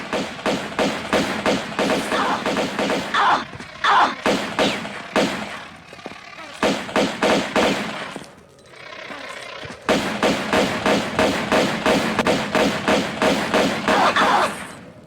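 Rapid automatic gunfire in Tomb Raider while Lara shoots at enemies: long bursts of evenly spaced, punchy shots at close range, broken by short pauses and a brief quiet stretch before the firing resumes.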